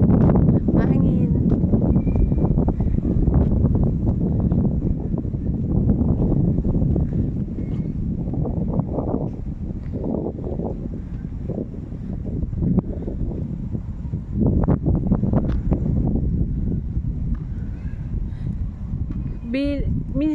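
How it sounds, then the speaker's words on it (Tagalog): Strong wind buffets the microphone at an outdoor fountain plaza, a constant low rumble under someone speaking throughout. "Mahangin."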